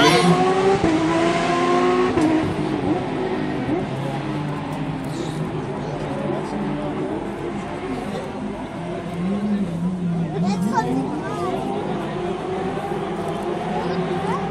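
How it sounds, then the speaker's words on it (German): WRC rally car engine on a stage of the AvD Sachsen Rallye 2013 near Zwickau, loud and steady with harmonic revving that rises and falls throughout, with a commentator's voice running underneath. "jetzt nochmal ein bisschen WRC-Gesound genießen"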